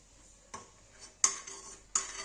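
A spoon stirs ghee being clarified in a pan, with four distinct scraping clinks spaced irregularly over a quiet background, close and fairly crisp, with no speech.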